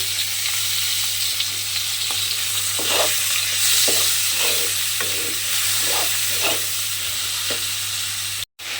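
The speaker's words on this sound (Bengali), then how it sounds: "এবারে চিংড়ি মাছটাকে আমি তেলের মধ্যে দিয়ে দেব।" Prawns frying in hot oil, a continuous loud sizzle with rhythmic stirring strokes every half second or so, close and without voices.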